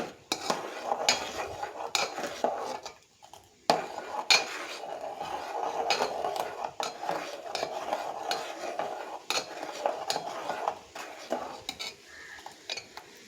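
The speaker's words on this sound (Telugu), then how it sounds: "ఒకసారి బాగా కలుపుకుందాం." A spoon scraping and clinking steadily against a pan while tela pindi curry is mixed, with soft frying sizzle underneath; rhythmic, close strokes with a brief pause midway and no talking.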